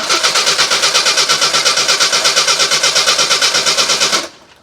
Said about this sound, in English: I'm going to ask him to try to start the vehicle, so as he normally would.